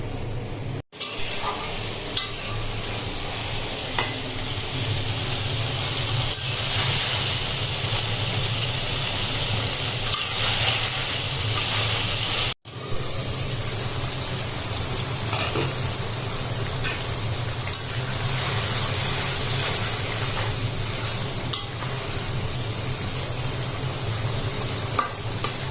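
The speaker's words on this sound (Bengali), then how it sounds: "মশলাগুলো ভালো মতো কষে দেবে।" Spices and vegetables being sautéed in oil in a pan for a tatkini fish curry: a steady close sizzle and hiss with stirring, running continuously for about 26 seconds apart from two brief dropouts.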